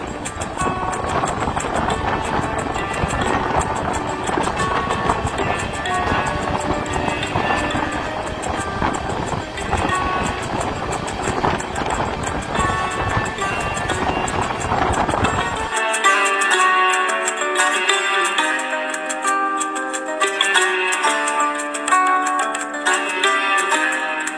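An Amrit Bharat Express train running at speed toward Dankuni Junction, a loud continuous rumble with rhythmic wheel clatter, heard from aboard; the low rumble drops away partway, leaving a thinner, tonal whine.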